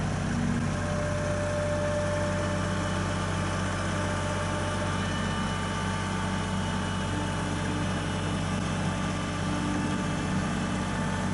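Kubota L3901 compact tractor with four-wheel drive running steadily outdoors while moving a building, a continuous low diesel drone that holds an even level throughout with no talk.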